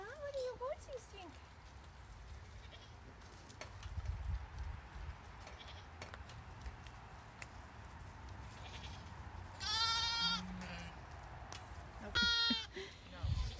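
Farm sheep or goats bleat in short bursts, two louder calls near the end, over steady outdoor background noise with occasional thumps.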